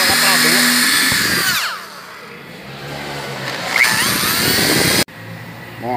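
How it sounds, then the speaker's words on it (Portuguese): A power drill with a bit bores holes through a Fiat Uno panel for a fog light kit, giving a loud whining run that stops, then short bursts before an abrupt cutoff, with speech around it. "a gente vai fazer um furo com a broca para passar a moldura lá para dentro"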